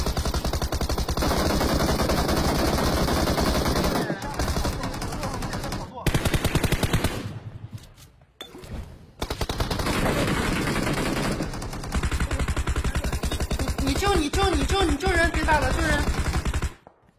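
Gunfire in the mobile battle royale game BGMI (PUBG Mobile) comes in loud, rapid automatic bursts with brief pauses between, dense and close throughout.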